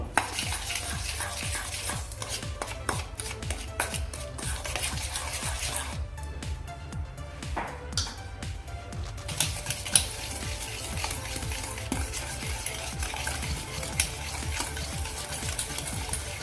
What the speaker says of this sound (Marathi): ही पिठी साखर पहिल्यांदा आपण या दह्यामध्ये व्यवस्थित असं मिक्स करून घेणार आहोत